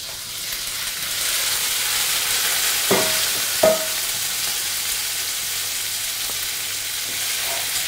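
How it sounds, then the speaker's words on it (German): Butter and chives sizzle steadily in a frying pan with a bright, continuous frying hiss, broken by a couple of sharp clinks of the pan or utensil near the middle. "Wir werden dazu ein bisschen Butter in der Pfanne zerlassen, den Schnittlauch kurz anschwenken"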